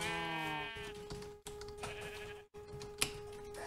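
A sheep in Minecraft bleats once in a long wavering cry, followed by soft clicks and tapping sounds.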